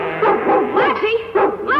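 Lassie, a female farm dog accused of chasing sheep, gives several close, high yips and barks in quick succession, with whining, excited tones between them.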